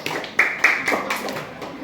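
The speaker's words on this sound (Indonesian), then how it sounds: "Silakan tepuk tangannya dulu." A class of schoolchildren in an Indonesian classroom gives a short round of applause for a group that has just presented, a few quick bursts of close clapping.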